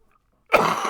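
A single cough bursts out near and fairly loud after a half-second of silence, a harsh breathy blast that trails off with no talking.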